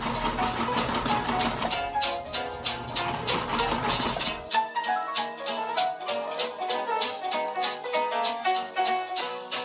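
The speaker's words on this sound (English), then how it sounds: "So you're literally just gonna do a straight stitch. I'm gonna do mine on the smallest stitch I can" A sewing machine runs a straight seam on its smallest stitch length, a steady fast mechanical chatter of needle strokes that pauses briefly partway through, then continues alone and close.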